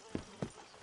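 Two faint hoofbeats from horses in a Western game setting, single soft clops spaced about a quarter second apart, quiet and isolated.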